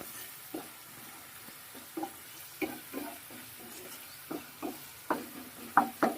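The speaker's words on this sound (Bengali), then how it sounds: "একটু মশলাটা কষিয়ে নিলাম" Spice paste fries in a pan and is stirred in slow, regular scrapes over a faint, low sizzle, quiet and close.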